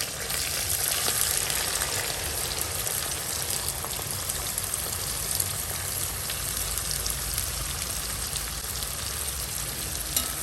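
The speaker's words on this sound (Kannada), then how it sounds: "ಈಗ 4 ದೊಡ್ಡ ಈರುಳ್ಳಿಯನ್ನ ಫ್ರೈ ಮಾಡ್ತಾ ಇದ್ದೀನಿ" Four large onions fry in hot oil, a steady dense sizzle that stays loud and close, with no talk over it.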